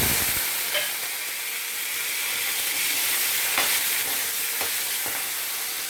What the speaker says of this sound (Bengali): এবারে আমি ওই তেলের মধ্যে ডিম ভাজবো